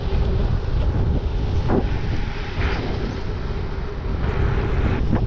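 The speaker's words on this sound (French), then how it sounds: "Alors depuis ce matin, on a vent dans la gueule." Strong headwind roars across the microphone on a gravel bike ride, a loud, constant buffeting rush that never lets up.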